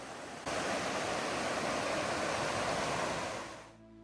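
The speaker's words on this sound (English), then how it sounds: "River flowing by the road and lush green forest truly made it a wonderful experience." A river rushes beside a mountain road through green forest in the Great Smoky Mountains, a steady broad wash of flowing water at an even level that fades out at the end.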